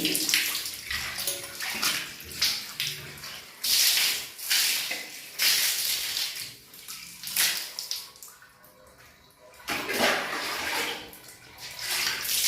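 Water splashes and pours in uneven bursts across a hard bathroom floor during cleaning, surging and fading several times, close and fairly loud, with no talking.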